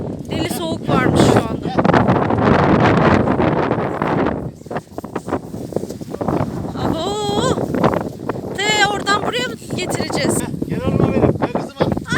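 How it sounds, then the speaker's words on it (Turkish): Gusty wind on a sunny day buffets the microphone with low rumbling bursts while a person talks, and sheep bleat intermittently nearby. "Bu çok rüzgar var ya bugün."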